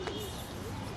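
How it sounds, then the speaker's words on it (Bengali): Up close, a pigeon gives a single soft, low coo, faint above a constant background hiss. "এই দেখেন একটা কবুতর আসছে আমাদের এখানে"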